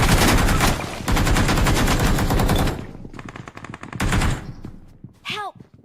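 Rapid automatic gunfire from a video game fires in loud, dense bursts for nearly three seconds, pauses into quieter scattered shots, then erupts in another short burst before trailing off with a faint sweeping electronic tone.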